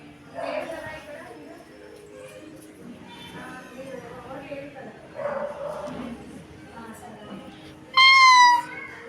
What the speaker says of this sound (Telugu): క్యాట్. క్యాట్ వచ్చింది.